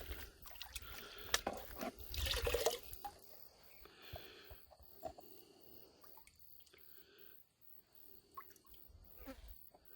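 A little dirty water swirls and sloshes in a gold prospecting pan full of dark sand, with wet trickles and drips that are busier at first and then quieter and sparse.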